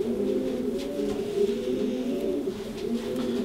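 A female pigeon coos in a low, continuous, throaty rolling murmur, close but fairly soft and steady throughout, with no speech.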